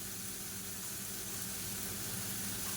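Garlic and shallots sautéing in oil over a medium flame, a faint, even sizzling hiss held steadily for a few seconds, quiet and without speech.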